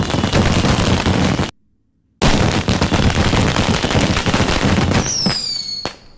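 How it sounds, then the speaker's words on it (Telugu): Loud, dense crackling bursts of firecrackers fill the air, break off into a moment of silence, then resume, ending in rising whistles and a final sharp pop. "టపాకాయలు బాబు వెళ్తున్నాయి."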